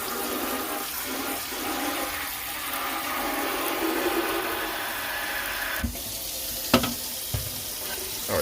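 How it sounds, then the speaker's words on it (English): Hot water runs steadily from a tap with a broad rushing hiss, then a few clunks and splashes near the end. "We're gonna put hot water in it."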